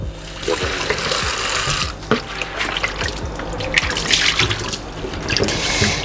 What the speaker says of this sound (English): so I'm gonna wash my callaloo now.